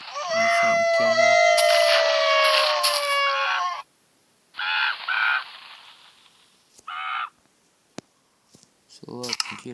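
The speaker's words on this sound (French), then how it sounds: "C'est un canard." Honking duck-like calls from the Minecraft video game: a long run of loud, nasal squawks, then several shorter separated bursts, with a few sharp clicks in between.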